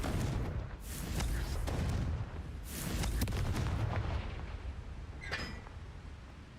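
Fiery Confringo spell blasts in the video game Hogwarts Legacy, a loud sustained booming rumble with repeated explosive bursts and a crackling tail, dense game effects filling the whole stretch.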